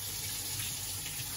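Running water pours from a tap while vegetables are washed, a steady soft hiss of flowing water with no talking.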